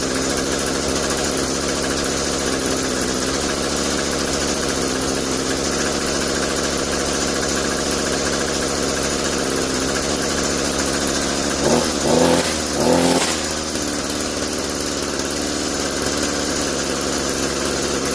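An Echo SRM-2320T string trimmer, fitted with a new carburetor and filter cover kit, runs off choke with a steady, close two-stroke buzz and a brief pair of throttle blips partway through.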